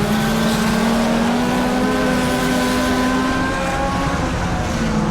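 Race cars circling a short oval bullring track at Brownstown: a loud, continuous engine roar with sustained droning tones that shift slightly in pitch as the cars run laps, no talk.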